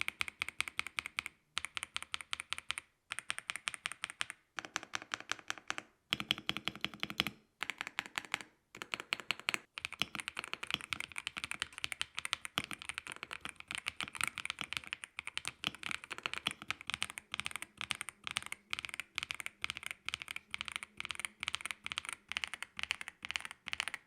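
Typing on a Yunzii B75 mechanical keyboard fitted with lubed stabilizers, a steady stream of crisp close-up keystroke clacks with brief pauses and bursts of rapid runs, no talking.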